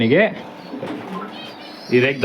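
Pigeons coo in a loft, an older Anekal-line male among them, with two short, warbling coo phrases close by at the start and the end and a quieter, low murmuring stretch between them.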